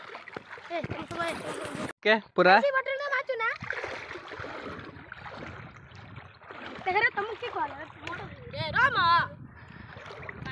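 A camera is plunged into water for underwater filming, giving a brief close splash followed by gurgling, while people keep chatting loudly throughout.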